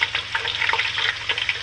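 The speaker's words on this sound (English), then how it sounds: "when we start deep frying these" Chimichanga dippers deep frying in hot oil make a bright, crackling sizzle, close and steady with quick popping bursts.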